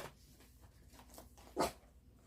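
Hunter, a pet dog, lets out a single short bark close by indoors, standing out against a quiet, low background.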